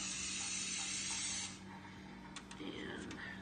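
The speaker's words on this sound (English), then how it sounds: "you want to spray them generously with coconut oil" Coconut oil sprays in a long continuous hiss into treat molds, then stops, followed by a few short clicks and handling noises nearby.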